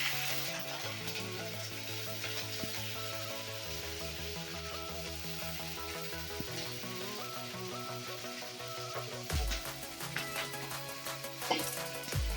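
Green chillies sizzle and crackle steadily in hot oil in a home kitchen, a continuous close frying hiss with a few louder pops and clatters toward the end, no talking.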